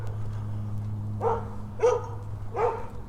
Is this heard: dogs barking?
yes